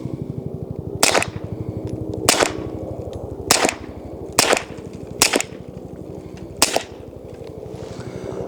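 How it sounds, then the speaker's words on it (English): Six suppressed pistol shots fired with the same ammunition, each a sharp loud crack spaced roughly a second apart, over a steady low rumble of background noise. "gonna do another 5 or 6 here and let you hear same ammunition, what that sounds like"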